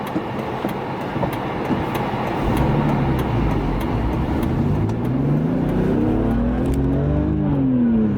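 A BMW M3 drives along New Jersey back roads, its engine note steady at first and then climbing and sweeping in pitch as it accelerates, loud and close throughout with continuous road and wind roar.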